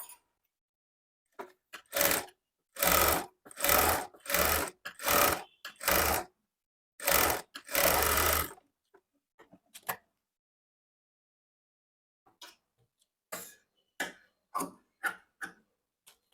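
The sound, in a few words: sewing machine stitching a blouse lining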